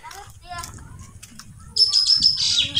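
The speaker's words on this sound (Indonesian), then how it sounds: "Burungnya kencang banget suaranya." A bird calls loudly near a small roadside stall by Kubangkangkung lake in Kawunganten, Cilacap, its sharp high chirps coming in a fast, bright burst, while people talk nearby.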